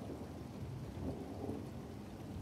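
Steady rain falls outside with a soft, continuous hiss and a low rumble of distant thunder beneath it, with no voices.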